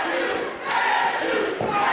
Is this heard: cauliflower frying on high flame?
no